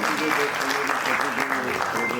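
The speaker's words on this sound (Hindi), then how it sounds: "जोरदार तालियां आप सबके लिए," Audience applause at a Hindi stage event with an anchor, steady and dense throughout, with a faint voice or tonal sound running underneath.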